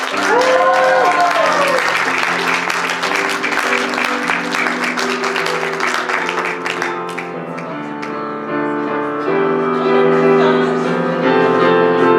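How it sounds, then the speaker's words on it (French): Audience applause for a graduate at a school gown-and-yearbook ceremony, a steady wash of clapping with music playing throughout and tones shifting near the end. "Applaudissez chaleureusement Florence Jobin."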